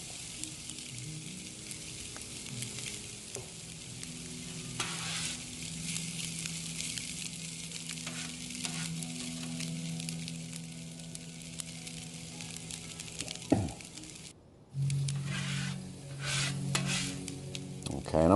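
Soy sauce and sesame oil sizzle steadily on a hot Blackstone griddle, with a constant frying hiss and occasional scrapes and clinks of a metal utensil stirring nearby.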